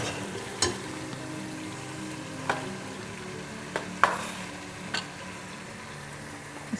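Palak chicken frying in ghee in a pot for a Pakistani dish, a steady low sizzle with a few sharp clicks and pops of spoon or oil spaced out across it, no voices.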